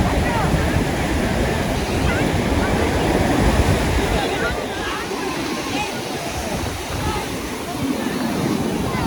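Ocean waves break on a Bay of Bengal beach at sunset in a loud, continuous roaring wash of surf with wind rumble, steady throughout and close by.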